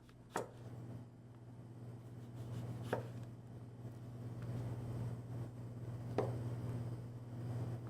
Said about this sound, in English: So Milton, would you like to give that a nice chop for me?